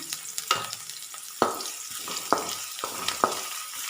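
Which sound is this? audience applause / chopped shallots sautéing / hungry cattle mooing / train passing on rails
chopped shallots sautéing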